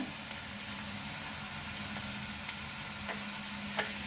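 Grated bottle gourd cooking with sugar in a pan gives a steady, soft sizzle, with an occasional faint scrape or tap from stirring and no talk.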